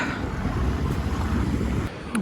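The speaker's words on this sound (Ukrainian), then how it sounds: "на вулиці наче і не холодно, але сьогодні вітер" Steady wind buffeting the microphone outdoors, a continuous rough rumble with no voices.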